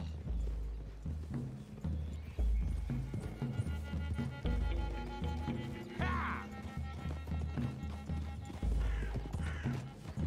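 Horses trot on forest ground in Red Dead Redemption 2, a steady clip-clop of several animals with one clear whinny partway through, set against a dense game soundscape and background music.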